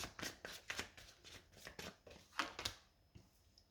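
Tarot cards are shuffled in quick, soft riffling bursts, close and quiet, with brief papery slaps between passes.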